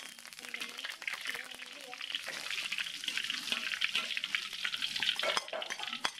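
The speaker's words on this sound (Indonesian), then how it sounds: "daun salam, daun jeruk, ini langsung saya goreng dulu" Steady sizzling of bay leaves and lime leaves frying in hot oil, with stirring scrapes and clinks throughout and a voice speaking faintly in the background.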